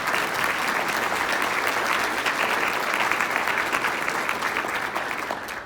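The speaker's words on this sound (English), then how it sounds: "Sure, you can clap for that." A crowd at a city State of the City address in Guelph applauds in a continuous, loud wash of clapping that stays even throughout and eases off slightly at the end.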